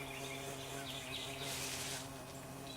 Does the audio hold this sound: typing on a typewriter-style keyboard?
no